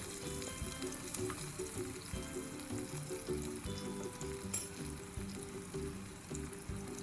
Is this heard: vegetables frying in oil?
yes